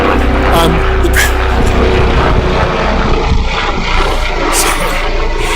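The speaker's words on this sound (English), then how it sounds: "I have a helicopter going on overhead." A helicopter passes overhead outdoors, giving a loud, steady engine roar and rotor throb that fills the whole stretch while a person talks over it.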